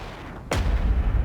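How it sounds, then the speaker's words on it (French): A single sharp explosion cracks out about halfway through, followed by a heavy low rumble that lingers to the end over a quiet background. "C'est une belle explosion."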